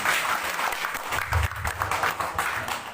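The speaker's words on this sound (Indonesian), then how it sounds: "Tepuk tangan untuk Tuhan Yesus." Dense applause from a church congregation at a youth Christmas celebration in Jakarta, steady clapping filling the whole stretch with a few louder bursts, no voices standing out.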